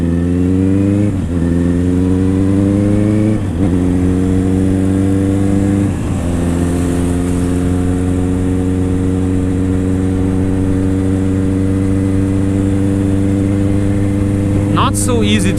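Honda CBR 650 R motorcycle engine under riding, a loud, close inline howl that rises through the gears with several shifts and then holds a steady drone as the rider's voice comes through.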